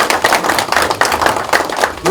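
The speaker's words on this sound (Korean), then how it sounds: "소개해 드릴 때마다 뜨거운 박수를 부탁드립니다." Loud, close applause from the audience at a high-level policy meeting between a labor federation and a political party as leaders are introduced, a dense burst of many clapping hands that swells and pulses steadily.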